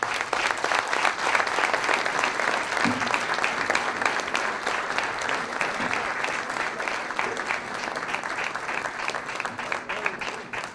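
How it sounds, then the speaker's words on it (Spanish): A dinner audience at a press association event gives sustained applause after a talk, a dense, even wash of many hands clapping that holds steady and loud for the whole stretch. "Un aplauso."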